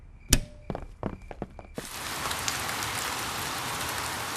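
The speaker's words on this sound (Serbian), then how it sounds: "Kiša je padala celu noć i sada je dvorište veoma mokro." Cartoon rain at night in a Peppa Pig episode: a few scattered thuds and taps, then a steady, fairly loud hiss of rainfall sweeps in and continues without any voices.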